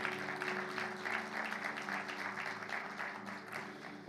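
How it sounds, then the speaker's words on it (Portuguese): Church congregation applauding the Lord during a Portuguese-language worship service, a dense, sustained wash of clapping that stays steady and fairly loud throughout with a low hum of music or organ underneath. "Você pode dar um aplauso bem forte ao Senhor?"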